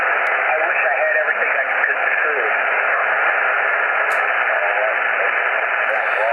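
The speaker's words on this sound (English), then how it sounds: "So you do hear a little bit more of a static." Static from a doublet antenna on a shortwave radio receiver makes a loud, steady band-limited hiss, with faint garbled voices mixed through it.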